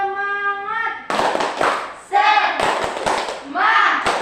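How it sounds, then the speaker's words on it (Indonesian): A classroom of students does a rhythmic spirit clap, sharp group claps in quick bursts mixed with voices chanting together, loud and close throughout. "Tepuk semangat."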